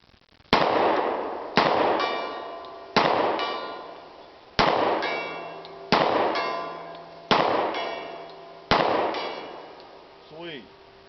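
Rifle shots strike a steel gong at 80 yards, seven sharp cracks spaced about a second and a half apart, each followed by a bright ringing clang that decays before the next.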